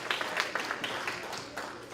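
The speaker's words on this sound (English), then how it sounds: "Give yourselves a round of applause." A banquet audience applauds with scattered, uneven claps in short bursts, fairly faint and distant, for about two seconds.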